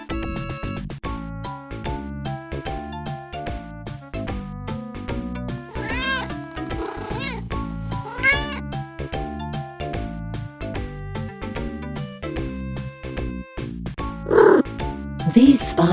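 Cats meow repeatedly and purr, with drawn-out cries and softer rumbling layered over a steady musical backing, some calls rising louder near the end.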